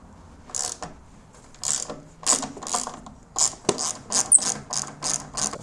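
A spanner ratchets on a 13 mm nut at the back of a BMW R1150GS fuel tank, giving a series of close, sharp clicking pulls in an uneven rhythm, about a dozen strokes speeding up toward the end, with no talk.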